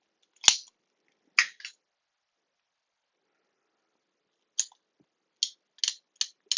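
Sharp metallic clicks and clacks of a P38 pistol's mechanism being worked by hand, close up in a quiet room. A few come in quick clusters, and a long silent gap splits them into two groups.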